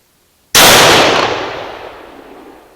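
A single sharp, loud gunshot from a Remington 700 ADL bolt-action rifle cracks out after a moment of quiet, then trails off in a long, fading echo across the range.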